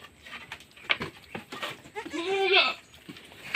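Goats bleat on a farm where a nanny has just birthed twins, a loud wavering cry rising up close amid scattered shorter calls and shuffling.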